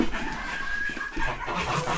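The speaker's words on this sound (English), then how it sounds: "So he's the cockerel and then she's the hen." A rooster and a hen cluck softly nearby, a few low throaty calls over a steady background hum.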